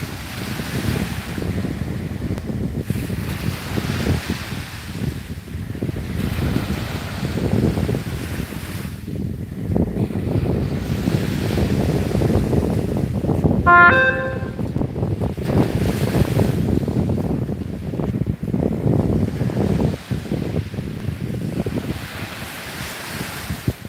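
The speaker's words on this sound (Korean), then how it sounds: "파도 소리가 너무 정겨워." Steady wash of ocean surf at Kkotji Beach, South Korea, with gusting wind across the mic, a continuous roar of breaking waves; a brief high chime rings out midway.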